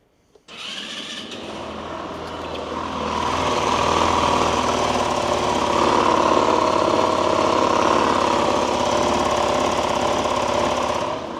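A motorcycle engine running rough after sitting unused for two months, with a loud, steady, rattly clatter and a harsh knocking drone that starts abruptly and holds for about eleven seconds without talk.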